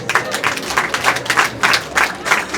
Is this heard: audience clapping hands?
yes